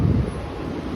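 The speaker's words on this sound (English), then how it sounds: "Now the wind, it's a little bit breezy" Breezy wind gusts across a street in Midtown Manhattan near a subway vent, a loud rumbling buffet against the microphone with a steady rushing hiss and no voices.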